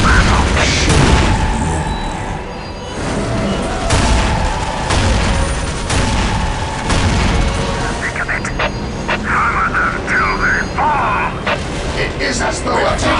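Battle gunfire and explosions in Warhammer 40K Dawn of War Soulstorm, Chaos against the Sisters of Battle, with loud dense shots and booms throughout, mixed with voices and other game sounds.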